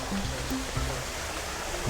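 Steady rushing of an artificial waterfall at a Nakhon Pathom cafe fills the scene, with brief bits of a voice rising over the constant water noise.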